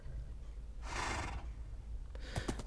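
A Minecraft horse gives one short breathy whinny lasting about half a second, followed by a few soft snorts and clicks, close and moderately loud against a faint low hum.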